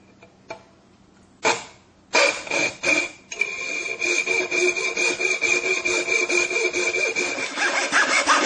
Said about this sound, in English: To cut the copper-clad material, we're going to use a coping saw.